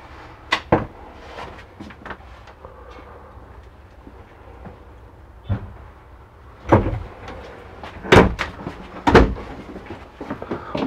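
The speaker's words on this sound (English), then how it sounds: "as we step on in, we'll close this door." Inside a 2015 Coachmen Leprechaun RV, a door swings shut amid several sharp knocks and thuds spread across the stretch, with a quiet interior hum between the louder bangs.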